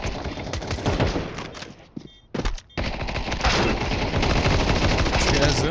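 Heavy gunfire exchange in Counter-Strike 2 during a tournament match, with dense automatic bursts and shots filling nearly the whole stretch, a brief lull in the middle, then sustained loud firing again.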